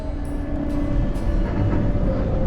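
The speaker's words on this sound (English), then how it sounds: "we caught the train to head on over to the gorgeous village of Murren" A passenger train runs toward the Alpine village of Murren, giving a steady, loud rumble and hum with a faint rail squeal, continuous throughout with no voices.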